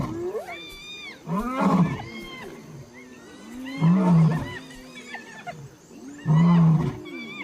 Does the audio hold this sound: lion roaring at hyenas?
yes